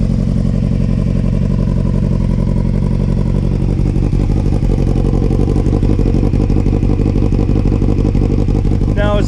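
2005 Yamaha YZF600R Thundercat motorcycle with a Delkevic exhaust, idling close up with a loud, steady, rumbling burble that holds through the whole stretch.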